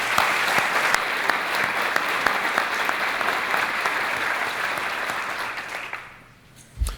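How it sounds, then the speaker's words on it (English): An audience at a business awards event applauds chamber award winners, a steady, dense round of clapping that fades out near the end. "If we could please have another round of applause for all of the chamber winners."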